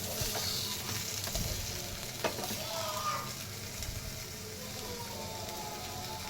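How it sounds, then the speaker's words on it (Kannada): Pizza bread spread with topping cooking on a tawa over a slow flame, giving a soft, steady close sizzle and crackle that continues throughout without talk. "ಸ್ಲೋ ಫ್ಲೇಮಲ್ಲಿ ಬೇಯಿಸ್ಕೊಳ್ಳಿ ಇದನ್ನು"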